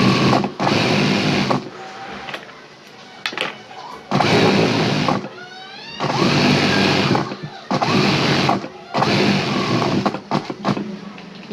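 A sewing machine stitches seams on a ladies' pant in loud bursts of a few seconds each, about five runs separated by short pauses, close up.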